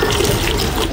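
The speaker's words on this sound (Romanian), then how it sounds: "punem apa minerală" Mineral water pours into a jug of homemade lemonade with orange and grapefruit, a loud, close, steady gushing splash that lasts the whole brief moment without talking.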